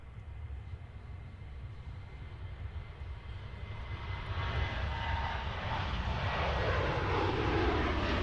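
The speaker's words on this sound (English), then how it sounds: "we also have the Ryanair 737-800 on the roll" Ryanair Boeing 737-800 jet engines on the takeoff roll at Manchester Airport, a broad steady roar that swells and grows louder over the last few seconds, heard from a distance with no talk.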